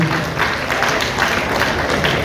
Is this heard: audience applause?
yes